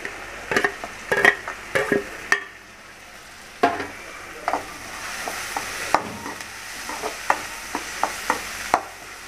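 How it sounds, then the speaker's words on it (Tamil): Garlic, green chili and onion sautéing in a pan for tomato rice, with a low sizzle under repeated sharp scraping and tapping of a spoon, close and fairly loud. "சேர்த்துட்டு கொஞ்சம் நல்லா வதங்கட்டும் இந்த பூண்டு, பச்சை மிளகாய், வெங்காயம்."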